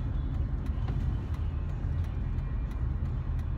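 A car passes on the road, a steady low rumble of traffic and engine noise holding throughout, fairly close and continuous with no talking.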